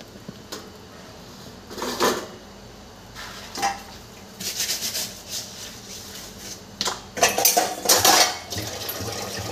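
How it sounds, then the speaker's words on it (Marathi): Dishes and utensils being scrubbed and washed by hand in a home kitchen, with intermittent bursts of clattering cutlery and metal pots separated by brief quiet gaps, fairly close and moderately loud, with no voices. "तर मी आता भांडी घासून घेते।"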